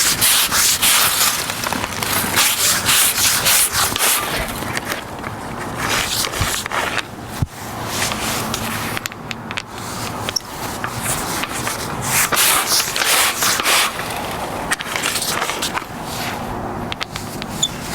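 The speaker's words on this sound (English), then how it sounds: "I can hear the soot dropping into the bottom." Continuous scraping and rubbing of a chimney brush inside a wood furnace chimney, with irregular gritty bursts and soot falling to the bottom, close and fairly loud.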